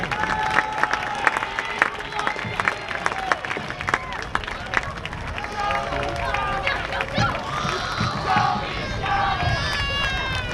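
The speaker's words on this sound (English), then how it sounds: "Let's give them one last round of applause." A football game crowd applauding and cheering the homecoming court, with dense sustained clapping and shouts from many people throughout while a voice talks over the stands.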